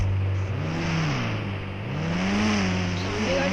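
An Audi engine revs in GTA V, its tone rising, dipping and climbing again as the car accelerates, steady and fairly loud with no talk over it.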